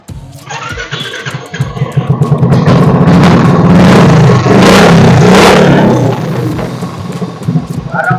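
A 2017 Royal Enfield motorcycle fitted with an aftermarket exhaust starts up nearby and revs hard. The thumping engine swells loud and close, then settles back.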